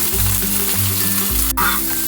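Large square chunks of tomato, capsicum and onion frying lightly in a pan over medium heat, giving a loud continuous sizzle with a low hum beneath and one brief sharp knock near the end.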